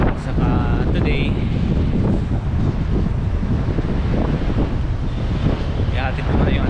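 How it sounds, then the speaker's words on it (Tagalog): Strong wind buffets a microphone outdoors on a blustery morning near a city gate, a loud, steady roar with rumbling gusts throughout, and faint voices now and then beneath it. "So, ang panahon ngayon guys, medyo mahangin."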